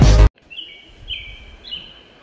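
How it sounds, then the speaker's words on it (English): Birdsong drifts into a bedroom: after a brief loud burst at the start, a few thin, high chirps and short whistled phrases sound faintly and at a distance over a quiet, low background. "Those birds singing are so calming to my ears"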